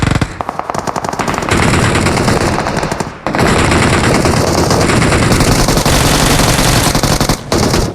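Rapid automatic gunfire in a horror shooter video game bursts loud and dense, with a brief break before a sustained barrage resumes and runs on to the end.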